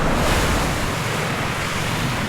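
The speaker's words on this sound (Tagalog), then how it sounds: "pahinga muna kami dito sa tabing dagat" Ocean surf on a Pacific coast beach, a continuous loud wash of breaking waves with blustery wind buffeting the microphone, no voices.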